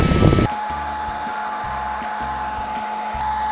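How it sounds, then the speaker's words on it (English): A blow dryer blows a steady, loud whooshing hum with a faint whine while heating color-changing slime, starting right after a brief burst of other noise. "So now, a blow dryer."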